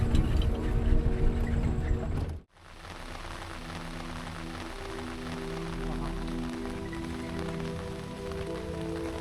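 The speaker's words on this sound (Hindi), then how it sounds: "शाम की सफारी में आते आते ही बारिश आ गई" Rain pattering on a surface during an evening wildlife safari, steady and close, with a brief sharp break early on and faint voices underneath.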